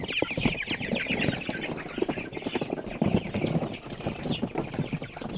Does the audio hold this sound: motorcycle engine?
no